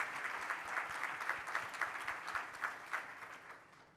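An audience at the RPA 2025 Assembly gives a round of applause for Chair Dan Garodnick. The clapping is moderately dense but sounds somewhat distant and soft, and it tapers off toward the end.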